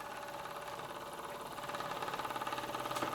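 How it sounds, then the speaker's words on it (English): A small marine model steam engine runs steadily at close range, its rapid mechanical chuffing and clatter forming a continuous rhythmic buzz that grows slightly louder and more pronounced partway through, with no talking. "My first Marine model steam engine"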